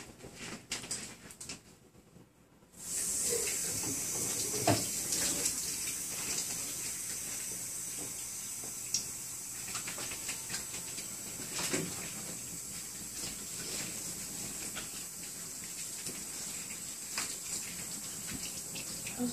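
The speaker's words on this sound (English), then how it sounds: "So you could go wash your hands." Tap water runs steadily into a sink while hands are washed and scrubbed before a tissue expansion procedure for skin nevus reconstruction, a close continuous hiss with brief splashes and rubbing after a quiet start.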